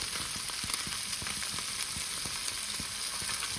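Steady loud sizzling of sardines frying in hot oil in a pan, with irregular crackles and pops, no voices.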